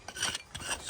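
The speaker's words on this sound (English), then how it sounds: "Scrape that back." Scraping tool rasps back lime mortar joints on the wall of a damp cottage, a short run of gritty rubbing strokes close by, with no voices.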